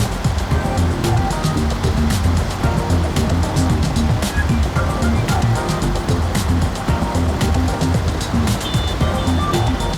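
A Kenworth heavy-duty truck crosses water in SnowRunner, its engine rumbling under a loud, constant churning splash and rush of water that continues without pause, with no talking.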